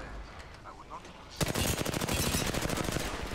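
Rapid automatic gunfire from the video game Apex Legends starts abruptly after a quieter stretch. It then continues as a dense, loud burst of shots.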